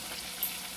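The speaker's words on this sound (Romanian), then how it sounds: "După ce călesc legumele" Vegetables sautéing in a pot for a potato and chicken breast stew give a steady, soft sizzle of frying with a brief brighter crackle midway.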